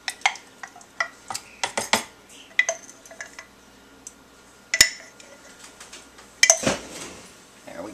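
A fork scrapes and clinks against a bowl while mixing thick yogurt, in irregular bursts of tapping and stirring with brief pauses, fairly close and moderately quiet.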